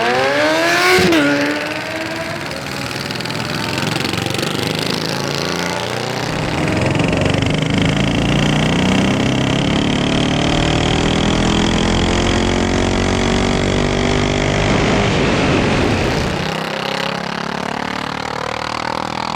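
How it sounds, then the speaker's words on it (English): A 45 HP mini bike with three engines roars at a drag strip, revving loudly up through rising pitch on a launch and sustained run, then dropping off near the end, close and alone. "he's gonna line back up and try to roll into the throttle, and hopefully all 3 engines will stay running"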